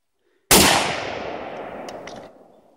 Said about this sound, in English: I'm going to take a couple shots with it